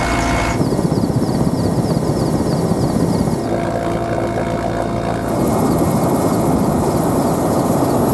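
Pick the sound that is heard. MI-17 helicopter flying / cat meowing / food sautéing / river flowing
MI-17 helicopter flying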